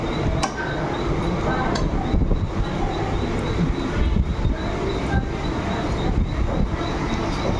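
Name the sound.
local train at Wadala railway station, Mumbai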